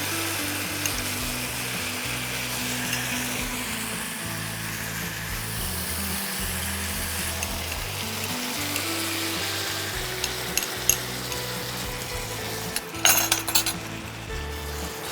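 A paste of two spoons of mustard seeds and three spoons of poppy seeds fries and is stirred in a pan for shukto, with loud constant sizzling and a burst of metal spoon clinks near the end.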